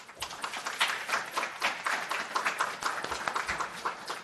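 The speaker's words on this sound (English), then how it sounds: "let's give them a round of applause" Small audience clapping for a panel of professionals at a university management session, a close, lively patter of distinct individual claps that keeps going at a steady level.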